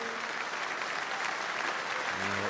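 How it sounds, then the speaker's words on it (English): Stadium crowd applause fills a rugby ground at Rodney Parade during a Dragons versus Lions match, a steady dense wash of clapping that holds for the whole stretch, with a faint low tone near the end. "You may have heard the spontaneous round of applause that's erupted around Rodney Parade."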